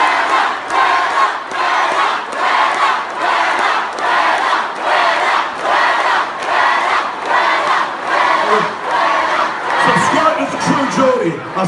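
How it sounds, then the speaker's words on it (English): A large crowd at a KSI vs Joe Weller boxing event chants the Weller chant in a steady, loud rhythmic pulse of massed voices, repeating about every second with scattered shouts near the end. "the whole crowd then erupted with the Weller chant"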